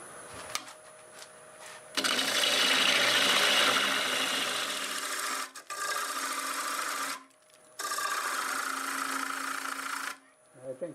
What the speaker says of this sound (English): I'm going to switch to my 5/8 bowl gouge.